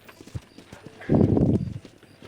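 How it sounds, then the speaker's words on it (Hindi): Golden-coloured horse hooves clip-clopping in the Red Dead Redemption video game, a short close burst of rhythmic hoof falls rising out of quieter ambience. "ये है जॉन का घोड़ा, हॉर्स"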